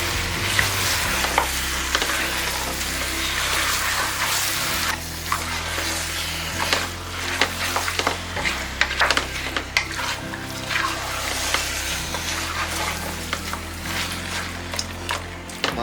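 Mutton pieces being stirred into masala inside a pressure cooker for biryani, with a continuous sizzle and repeated scraping strokes of a spoon at a fairly even rhythm, close and alone.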